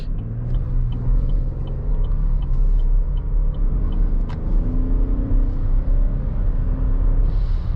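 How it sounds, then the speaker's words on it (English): A 2021 Chevrolet Traverse SUV with a 310-horsepower engine accelerates, heard from inside as a steady, loud engine and road rumble with no talking. "And this SUV takes off pretty well."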